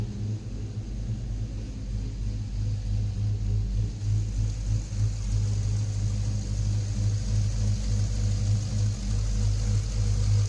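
A swapped LS V8 in a 2009 Jeep Liberty KK idles steadily with a deep, loud rumble, holding close and constant throughout with no talk, exhaust split into two 2 1/4 pipes joining a Y pipe.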